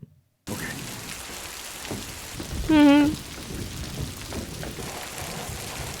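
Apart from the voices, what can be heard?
heavy rain in a movie scene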